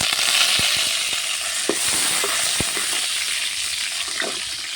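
Curry leaves dropped into hot oil with chillies and popped mustard seeds give a loud, dense sizzle up close, with a few sharp crackles and spatters scattered through it and no voices.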